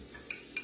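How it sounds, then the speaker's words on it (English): Food for a frittata sizzles quietly in a sprayed cast iron pan, a steady soft hiss broken by two quick metallic utensil clinks against the pan; no voices. "Onto this pan so you can kind of hear it sizzle."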